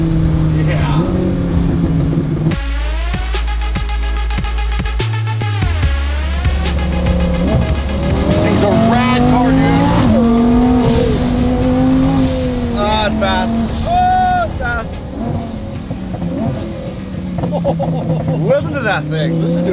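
A twin-turbo Lamborghini engine revs loud and close with rising and falling harmonic sweeps through gear changes, a sustained low drone at first, then repeated climbing pulls, with voices talking over it.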